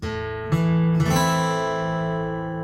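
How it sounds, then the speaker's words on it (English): An acoustic guitar plucks strings one after another, each note ringing into a sustained chord that slowly fades; close and clear, no talking. "So you can pluck individual strings on each of those chords"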